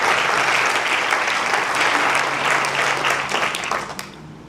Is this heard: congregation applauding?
yes